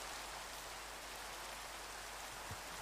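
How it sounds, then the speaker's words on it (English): Steady, hissing rainfall in Minecraft with no voices, a soft continuous wash of drops, fairly quiet and even throughout. "And it's raining"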